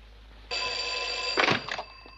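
An old telephone bell rings once, a sustained bright metallic trill close by, then stops with a soft handset clunk.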